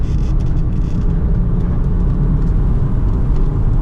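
A tuned-ECU BMW E36 323i drives hard on a damp mountain touge road, its engine a loud, constant low rumble with road and tyre noise heard from inside the car.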